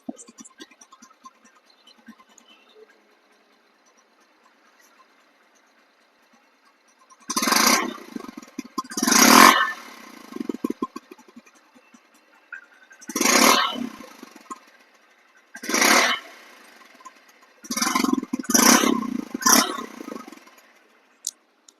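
A 2024 Honda Livo motorcycle in showroom condition, its engine roaring in several loud, separate bursts with short quiet gaps between them after a near-silent start.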